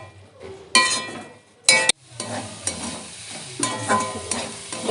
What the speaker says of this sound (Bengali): আবারও ভালো করে নেড়ে দেব